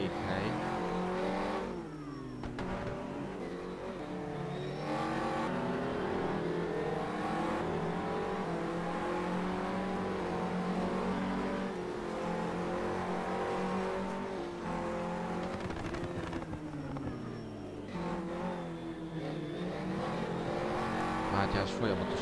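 Racing car engines in an F1 video game at the Nürburgring, a continuous layered roar of several cars revving and shifting up and down, with occasional tire squeal and a commentator speaking throughout.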